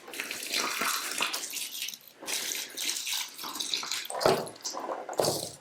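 Water runs from a tap into a bathtub to water potted plants, a splashing, gushing stream that starts and stops in several bursts, close and fairly loud.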